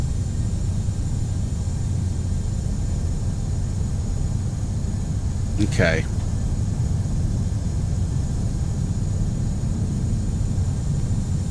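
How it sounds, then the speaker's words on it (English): Aircraft engines drone loud and steady throughout a Greenland flight in the Prepar3D v5 simulator, from BGBW to BGGH, with one brief spoken word over the constant hum. "Plane is really ramping its engines here."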